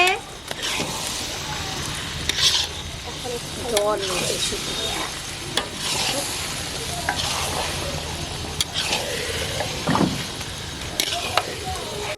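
Chicken pieces go into a pan of fried spice masala for chicken biryani, setting off steady sizzling frying with repeated scraping and stirring strokes, close and fairly loud, while a voice talks intermittently over it.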